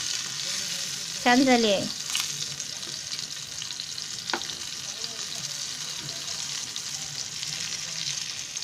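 Stuffed green chilies fry in a pan with a soft, steady sizzle, broken by one brief louder clatter near the start and a spoken line over the frying.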